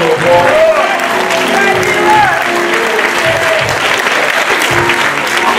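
Applause for an honored former district leader at a community gospel assembly, clapping spread through the room with cheering voices and chatter mixed in throughout.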